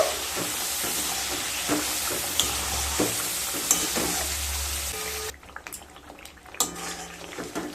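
Coriander leaf pickle paste, seasoned with sugar, salt and tamarind water, is stirred and fried in a pan, a continuous close sizzle with scraping spoon strokes and soft clinks that drops to quieter, sparser stirring near the end.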